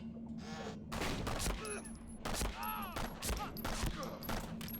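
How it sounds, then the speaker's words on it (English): Dense volleys of gunfire in a Call of Duty game, loud, continuous and close, with faint speech mixed in beneath the shooting. "is this how I shoot?"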